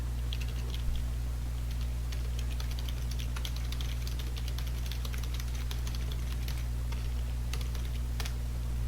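Computer keyboard keys clatter in a steady, fast stream of light clicks while code is typed for a C-language game project, played at moderate level over a constant low electrical hum, with no talking.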